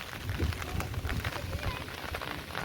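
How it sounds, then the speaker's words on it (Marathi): Heavy monsoon rain pours over a creek in Rajapur, Konkan, in a constant dense roar, with a low muffled voice mixed in underneath. "खालती खाडीवर आलेलो दाखवतो बघा चिक्कार पाऊस धरलेला"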